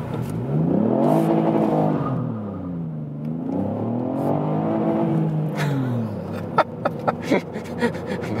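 A 2019 Ford Fiesta ST engine, manual, revs hard using launch control and climbs through rising, falling pitch sweeps as it launches and accelerates, ending with sharp clicks and knocks.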